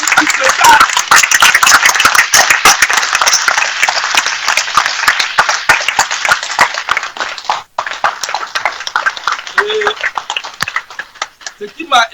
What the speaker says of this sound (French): Il faut l'applaudir beaucoup plus que ça.